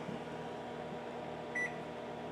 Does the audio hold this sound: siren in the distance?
no